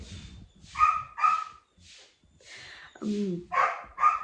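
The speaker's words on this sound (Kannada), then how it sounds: "ನಮ್ಮನೆ ನಾಯಿ ಬೊಗಳ್ತಾ ಇದೆ" A dog barks repeatedly in short, sharp bursts nearby, with a few higher yelps mixed in and brief pauses between barks.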